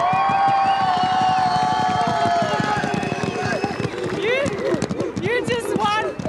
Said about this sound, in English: look at the crowd, all your mates here behind